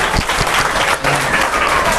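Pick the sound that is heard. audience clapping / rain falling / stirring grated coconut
audience clapping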